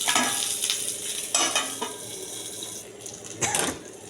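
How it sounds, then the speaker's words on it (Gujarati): Stuffed green chillies, Kathiyawadi bharela marcha, roast in a pan on low heat with a soft steady sizzle, broken by a few louder scraping stirs close by, no voices. "હવે આપણે તેને ધીમા તાપે શેકી લઈશું"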